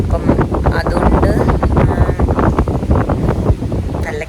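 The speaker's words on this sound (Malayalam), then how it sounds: "നല്ല കാറ്റ്." Strong gusting wind buffets the microphone on an outing in Munnar, a loud, continuous roar with rough bursts throughout.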